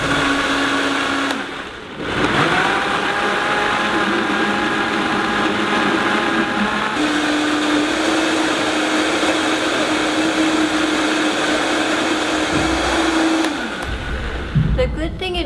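A high-speed Vitamix-style blender runs loudly and continuously, its whirring motor pitch shifting once partway through, with a brief pause early on and a winding down at the end.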